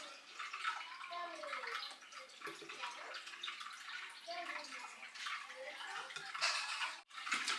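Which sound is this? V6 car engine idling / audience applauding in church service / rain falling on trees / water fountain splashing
water fountain splashing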